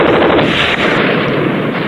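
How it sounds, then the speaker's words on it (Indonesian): Heavy cannon bombardment from British warships in a colossal drama about the Battle of Surabaya booms in a loud, sustained roar of blasts and rumbling gunfire, close and dense throughout. "Gempuran meriam dari kapal-kapal perang Inggris serta serangan dari pesawat terbang mereka tidak menyurutkan langkah bangsa Indonesia."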